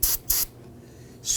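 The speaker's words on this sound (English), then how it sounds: "I simply like to take some spray solvent" Spray solvent blasts into an exposed electrical connector on a 2008-2011 Ford Focus rear ABS wheel speed sensor, two short sharp hissing bursts and a third starting at the end, close and loud.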